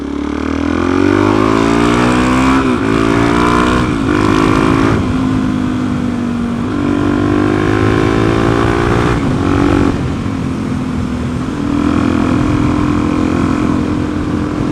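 A Suzuki DRZ400SM motorcycle engine runs loud and close, its steady drone rising and falling through several revs with shifting pitch, heard alone without talk.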